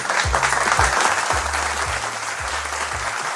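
Audience applause at a televised quiz-and-prizes show, steady and dense for the whole stretch, with a low pulsing bass tone repeating underneath.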